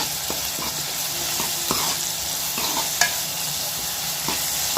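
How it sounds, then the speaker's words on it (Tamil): Onions sauté in oil in a pan for a fish curry, a steady close sizzle broken by periodic stirring scrapes and taps, with no talking. "வெங்காயத்தை சேர்த்து நல்லா வதக்கி வச்சுக்குவோம்"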